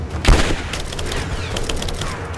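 Gunfire in the video game Rise of the Tomb Raider: a sharp loud shot near the start, then a sustained noisy wash of combat sound with several fainter bursts following.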